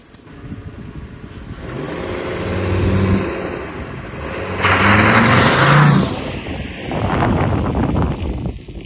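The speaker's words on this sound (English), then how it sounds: "do a burnout, your tires have to slide" A car doing a burnout, its engine revving in two or three rising surges against steady wind noise on the microphone, fairly close and loud, with no talk.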